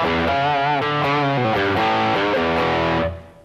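An electric guitar with a crunch tone, a clean sound with slight distortion, plays several sustained chords and notes close up. It rings out and fades at the end, with no voices.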